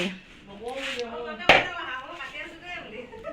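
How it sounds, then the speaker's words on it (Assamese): Duck meat being chopped with a blade, a single sharp close chop landing amid ongoing talk. "এয়া কাটি আছে হাঁহ মাংস এজনে হাঁহ কাটি আছে দেই"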